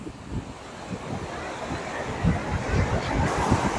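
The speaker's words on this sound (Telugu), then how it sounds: "చూడండి అల్ల ప్రవాహం అయితే చాలా ఎక్కువగా ఉంది" Sea waves wash in steadily on Candolim beach in North Goa, where the current is strong and swimming is restricted. The surf is mixed with wind noise on the microphone, and no one speaks.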